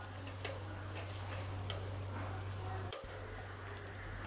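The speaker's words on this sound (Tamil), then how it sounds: "அப்படியே ஒரு 2 நிமிஷம் வதக்கலாம்." Green gram paasi payiru kuzhambu base is sautéed in a pan, Kerala style: a steady close sizzle with a low hum, light scattered ticks of stirring and one brief dip near the end.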